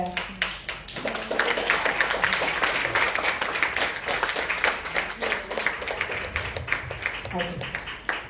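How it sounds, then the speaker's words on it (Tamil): An audience at a women's conference claps loudly and steadily for several seconds, a dense, even patter of many hands with no pauses. "அவங்களுக்கு ஒரு பலத்த கைதட்டு கொடுப்போமாக"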